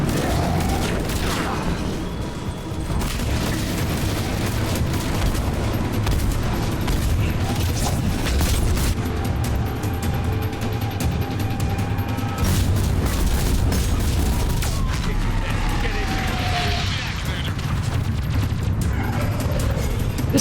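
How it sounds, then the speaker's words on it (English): Repeated booming grenade blasts in a sci-fi shooter video game, dense and loud, mixed with gunfire bursts and clanking mechanical effects, continuing steadily throughout. "Just keep tossing grenades until it dies."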